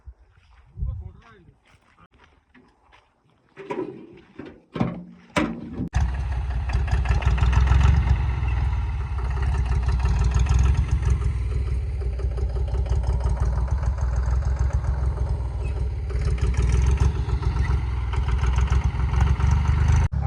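A diesel tractor engine idles steadily and loudly close by on a farm, a deep continuous rumble that starts after a few seconds of quieter knocks and movement.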